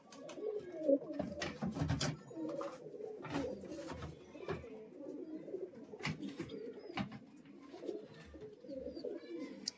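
Old household pigeons, Giribaj birds kept at home, coo in repeated low throaty bursts close by, overlapping calls rising and falling with a few scattered clicks and rustles.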